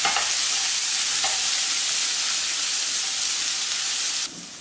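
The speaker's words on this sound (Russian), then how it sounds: "здесь у меня уже почищенный кабачок, я его очистила, убрала серединку и нарезала вот таким кубиком. Отправляем жариться." Peeled, seeded zucchini cubes fry in vegetable oil in a pan over medium-high heat, making a loud, continuous close sizzle with occasional stirring that drops off slightly near the end.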